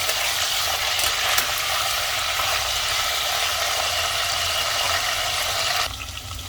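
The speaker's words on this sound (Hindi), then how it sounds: "आलू भी डाल दे रही हूँ ताकि दोनों एक साथ फ्राई हो जाए। थोड़ा सा नमक और ऐड कर देंगे, दोनों को अच्छे से हाई फ्लेम पर फ्राई कर देंगे" Potatoes and cauliflower frying together on high flame in a pan for a home-style gobhi sabzi, a loud, dense, continuous sizzle that drops off abruptly near the end, with no voices.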